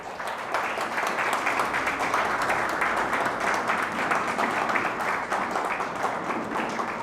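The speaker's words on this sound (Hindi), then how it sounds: "जोरदार ताली से खुदावन यीशु मसीह को धन्यवाद दें।" A church congregation breaks into loud, sustained clapping, a dense even wall of applause lasting several seconds with no voices on top.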